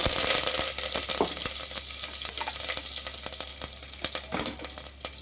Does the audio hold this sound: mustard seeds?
yes